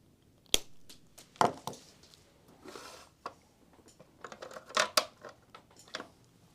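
Small snipping and clicking sounds come from cutting a wire in half while repairing a prop, a few sharp close snaps among softer handling rustles, faint and irregular.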